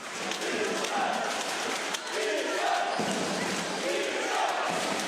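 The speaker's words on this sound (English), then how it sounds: "Crowd still chanting for Vishan." Basketball arena crowd chanting steadily during an EuroCup-style game between CSO Voluntari and Legia Warsaw, a dense continuous roar of many voices filling the hall throughout.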